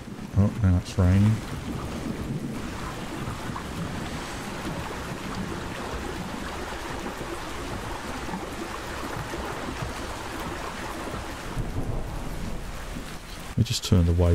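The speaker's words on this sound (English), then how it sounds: "Oh, now it's raining." In the video game Ark Survival Ascended, steady rain hisses continuously throughout, a dense broadband wash with a few brief bumps near the start and end.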